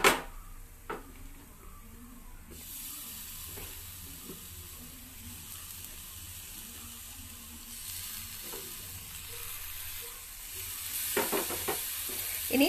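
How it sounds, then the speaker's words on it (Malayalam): Tomatoes sautéing in a pan with spiced cauliflower masala, a steady hissing sizzle with scattered stirring clicks, swelling louder near the end, with no talk. "ഇനി തക്കാളി നന്നായിട്ട് ഇതുമായിട്ട് ചേരുന്ന വരെ നമുക്കിത് വഴറ്റി കൊടുക്കണം"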